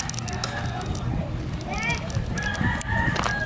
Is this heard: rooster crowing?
yes